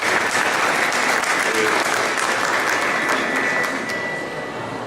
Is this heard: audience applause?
yes